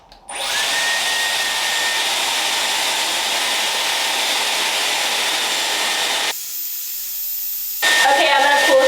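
A Dyson Airwrap hair styler blows low-heat air in a steady, loud whoosh with a faint whine. The stream softens briefly near the end, then picks up strongly again.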